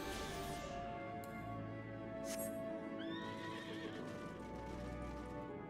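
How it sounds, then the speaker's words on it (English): Horse mount in the Final Fantasy XIV online game, a horse with a giant lizard tail, neighing and whinnying over steady clip-clop hooves, loud and continuous against a busy game soundscape. "God, I hate this horse."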